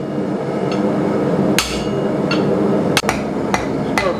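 A blacksmith's hammer strikes hot steel while forging the tip of a left-handed hook knife, giving about five sharp, ringing blows at uneven intervals, close and loud over a steady forge hum.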